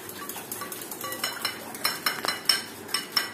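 A spoon beats and mixes breakfast ingredients with sugar in a bowl, producing rapid clinking and scraping strokes that come in a quickening rhythm, close and moderately loud.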